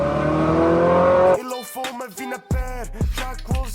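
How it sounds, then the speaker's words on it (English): A Ferrari V8 idles with a steady, dense rumble, then blips its throttle in a string of sharp revs that fall back into a crackling, popping burble, loud and close. "I can show you a few clips of the Ferrari and the burble sound"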